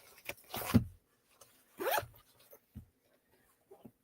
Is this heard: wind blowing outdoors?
no